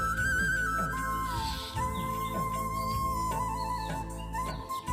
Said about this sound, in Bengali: এটাই গোশালিক পাখি ডাকতেছে